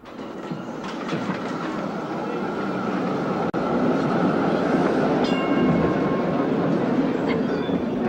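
A tram at a tramway station rolls along its rails in a steady, loud, continuous rumble with faint rhythmic clatter and a few brief high metallic squeals in the later part.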